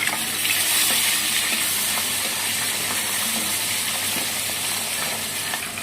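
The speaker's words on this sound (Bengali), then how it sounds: "মাছ হালকাভাবে ভাজবো তো মাছগুলোকে আমি এটি ওটিতে উল্টে দিই" Pieces of catla fish fry in a pan of hot oil, giving a dense, steady sizzle that stays loud and even from start to finish with no voices.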